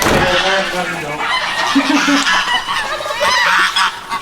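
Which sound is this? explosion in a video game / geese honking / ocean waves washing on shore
geese honking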